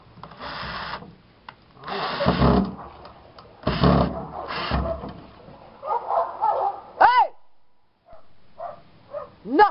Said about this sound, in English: Dog fight in the background,